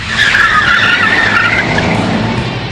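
A police car skids on a training track during precision driving practice: a loud, close, sustained tire screech lasting a few seconds, with engine noise underneath.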